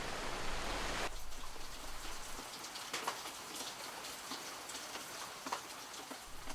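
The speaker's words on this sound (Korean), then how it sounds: "고사리 마을의 봄비가 촉촉합니다" Spring rain falls on a fern-growing village, a soft steady patter with scattered drips and occasional sharper drops close by; a louder rush fades in the first second, then the even rainfall continues alone.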